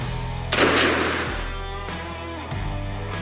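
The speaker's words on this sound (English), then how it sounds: "Take my first shot." A single sharp rifle shot cracks out loud and close while hunting fallow deer in open country, its report ringing briefly and then decaying into background hum.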